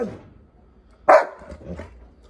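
A single loud excited bark from a pet dog, easily aroused by electronic ringtone sounds, bursts out once near the middle, followed by a softer bark or whine amid quiet room noise.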